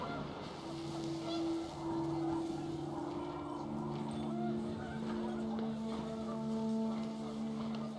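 Panicked geese honk in a steady, layered chorus over a rushing wind bed, continuous and fairly close, in the video game What Remains of Edith Finch.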